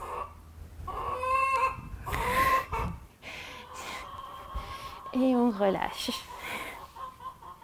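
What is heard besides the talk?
chickens clucking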